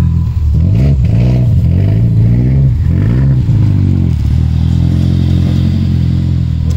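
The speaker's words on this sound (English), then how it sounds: "He's revving it up." A Ford Focus engine revs hard in rising and falling surges during an off-road mud run, loud and close. It then settles into a steady high idle with no talk over it.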